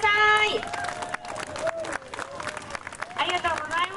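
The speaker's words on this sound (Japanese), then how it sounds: "大きな拍手をお送りください" Audience applause with clapping and crowd noise at a live concert after a performance, heard under an announcer's amplified voice speaking over it throughout.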